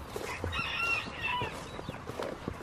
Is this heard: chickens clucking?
yes